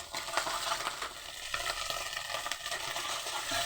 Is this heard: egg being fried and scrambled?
yes